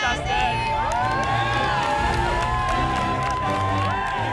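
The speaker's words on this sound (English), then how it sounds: "applause for Justin finishing his service" An audience on a MasterChef semifinal set erupts in cheering and whoops with some clapping for a contestant finishing service, lively voices rising and overlapping continuously.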